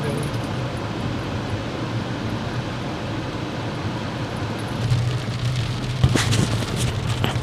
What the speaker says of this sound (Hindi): लगता है बारिश बंद ही नहीं होगी